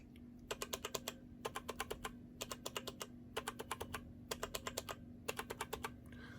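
Keys clatter on a Corsair K95 mechanical keyboard fitted with O-ring dampened keycaps, in quick bursts of crisp, close keystrokes separated by short pauses, over a faint steady hum.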